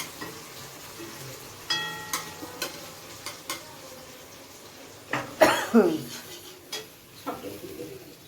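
Ginger paste fries and gets stirred in a pan, a soft sizzle with scattered scraping strokes and a louder burst midway, while birds coo nearby and faint voices murmur.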